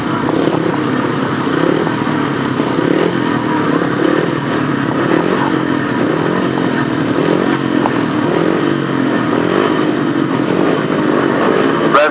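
Several 500cc grasstrack racing motorcycles roar continuously as a heat gets under way at the British Grasstrack Championships, a loud, dense engine blare with revving layered throughout and no voices over it.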